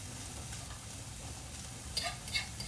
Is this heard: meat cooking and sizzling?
yes